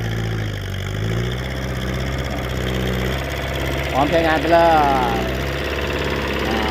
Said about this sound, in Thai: สำหรับคันนี้ก็เป็นรถไถแคมป์นะครับ MF 504นะครับผม